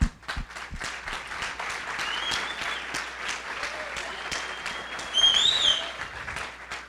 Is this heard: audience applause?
yes